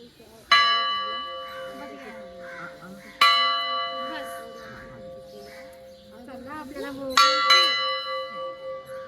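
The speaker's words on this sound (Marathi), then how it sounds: "घंटा वाजवलाय थेऊर गावात." A temple bell rings three times in the morning at Theur village, with long resonant rings, each strike ringing out and fading, with crows cawing and people talking in the background.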